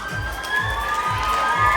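A crowd of schoolchildren at a prize distribution cheers and shouts loudly, high excited voices mixing together over a steady rumble with periodic low thumps.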